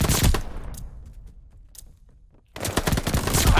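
Hostiles strafe in a video game with bursts of rapid machine-gun fire: a loud volley at the start fades into a quiet lull, then another dense burst erupts and continues to the end.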